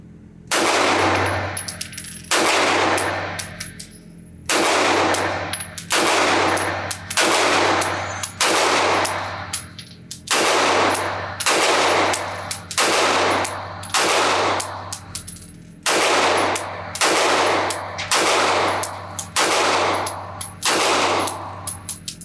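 Rapid strings of loud, sharp shots from a Staccato C2 compact 2011 pistol fired at a range, coming in quick bursts with short pauses between strings and no talking.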